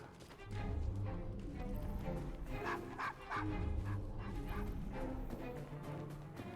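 A dog barking in the Assassin's Creed game, faint and somewhat distant, with repeated yips and barks mixed into a busy, murky background of ambient game noise, no talk.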